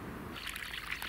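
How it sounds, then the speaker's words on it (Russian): Snowmelt running fast along a road, a close steady trickling and rushing of water with bright splashy detail, alone without talk. "Смотрите, с какой скоростью течет вода. Это вот на дороге тает снег."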